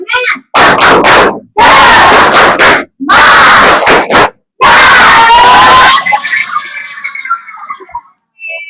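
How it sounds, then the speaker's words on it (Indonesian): A group shouts loud rhythmic chant bursts in unison with spirit clapping, broken by brief pauses, ending with scattered cheers and laughter. "kita tepuk semangat dulu"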